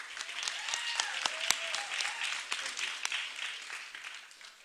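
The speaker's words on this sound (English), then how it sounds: "Please, let's give him a big round of applause." A room full of people claps, with sharp individual claps standing out over a steady wash of applause and a few faint voices underneath.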